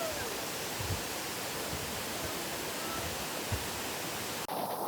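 Donne Falls, a waterfall near Ankola, pours with a steady, even rushing roar that fills the whole stretch at moderate volume, with a brief bump near the end.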